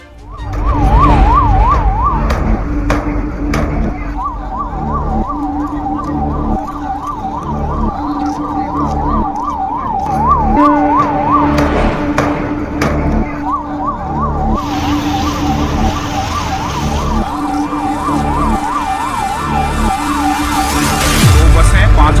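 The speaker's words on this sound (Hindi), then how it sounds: "आसपास की सारी एम्बुलेंसेज पहुंच रही हैं" Ambulance sirens wail continuously in a steady rising and falling cycle at a fire disaster scene in Jaipur, loud and close over road traffic and engine noise, with a brief low horn near the end.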